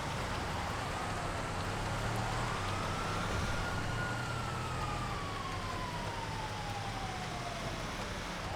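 A distant emergency siren wails in a slow rising and falling sweep, from both the GTA FiveM game and the street outside a window, under a steady rain-like hiss.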